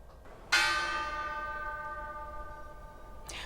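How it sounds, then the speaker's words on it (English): A single ringing strike of the opening bell at the New York Stock Exchange, with a sharp attack and a long bright decay. Tones sustain for about three seconds, then a faint new onset comes at the very end. "Today's opening bell at the New York Stock Exchange followed by silence in honor of Senator John McCain."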